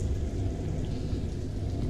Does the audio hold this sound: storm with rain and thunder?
yes